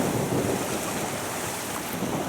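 Sea waves wash around a sailing boat on the Baltic Sea as the swell eases after winds near force 5 to 6, a steady broad rush of water with wind noise across the microphone and no talking.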